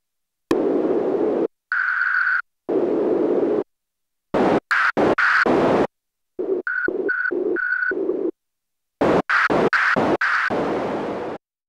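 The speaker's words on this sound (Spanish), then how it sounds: "El tercer tipo de ruido se le conoce como peak y aquí se le está aplicando un band pass filter." Peak-type noise from a Korg Minilogue XD synthesizer sent through a band-pass filter, sounding as loud, isolated bursts of hiss in short gated chunks with silent gaps between, some carrying a ringing, tone-like resonance.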